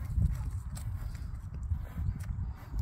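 A malacara bay horse walking calmly, its hooves giving a soft, steady clip-clop at close range on a low rumbling background, with no talk over it.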